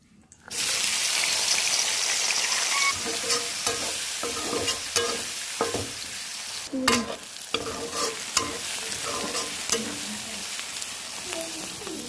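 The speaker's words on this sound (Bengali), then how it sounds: "কড়াইতে বসিয়ে দিলাম তেল, আর এখানে কেটে রেখেছি আগে থেকে পেঁয়াজ আর মরিচ" Sliced onion and green chili sizzling in hot oil in a kadai wok, a steady loud frying hiss with repeated stirring clatter of a spatula throughout, no talking.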